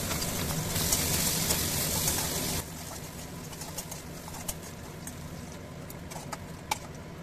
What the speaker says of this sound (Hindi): गोभी और गाजर को मैं फ्राई कर लेती हूँ